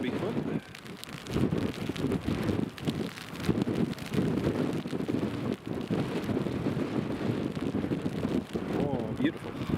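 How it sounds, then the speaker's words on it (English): Strong storm crosswind roars at an airport during Storm Ashley, buffeting the microphone in constant gusty rumbling and hiss across the whole stretch, with a voice speaking briefly under the noise. "Crosswind's picking up nicely."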